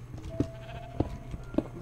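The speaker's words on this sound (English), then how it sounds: "Look at all those sheep." Sheep bleating in the Minecraft video game, three short bleats spaced about half a second apart, fairly close and clear over a low steady drone, with no talk.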